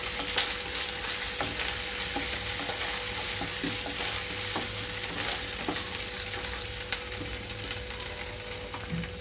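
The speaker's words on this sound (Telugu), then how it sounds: "ఇప్పుడు నేను ఇందులోకి అల్లం వెల్లుల్లి పేస్ట్ ఒక 1/2 స్పూన్ వరకు వేసుకున్నాను" Ginger garlic paste fries with onions in a pan for a brinjal and green pea curry, giving a steady, close sizzle throughout with occasional scrapes and taps of a stirring spoon.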